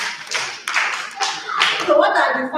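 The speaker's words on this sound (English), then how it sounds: "please, can we clap for him?" A class at a youth horticultural training session claps hands in a short, uneven burst of a few people, with separate claps audible and voices talking over the end.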